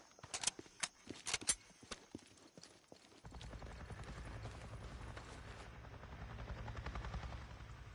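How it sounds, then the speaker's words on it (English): Helicopter in the video game Days Gone, a low rhythmic rotor chop rising in after several sharp hoof-like knocks and thuds, growing steadily louder and continuous over the second half. "Is that a helicopter just heard?"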